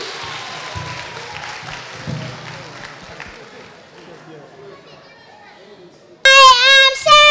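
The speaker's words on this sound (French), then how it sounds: "applaudissez pour les accueillir." Audience clapping at a school closing celebration, a loose patter that gradually thins and fades out before a voice begins speaking near the end.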